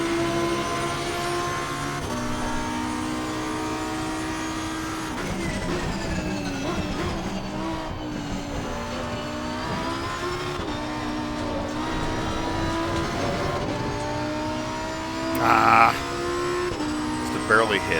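A Lamborghini Huracan EVO2 race car in Assetto Corsa Competizione at Paul Ricard drones at high revs, its engine pitch climbing and dropping through quick gear changes, with a voice talking over it.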